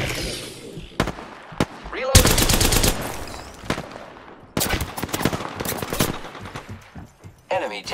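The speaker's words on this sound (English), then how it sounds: "Opening fire on the enemy." Gunfire from Apex Legends, several loud rapid bursts and single sharp shots separated by quieter gaps, with game voice lines and speech between the volleys.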